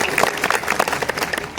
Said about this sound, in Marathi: जोरदार टाळी वाजून त्यांचं स्वागत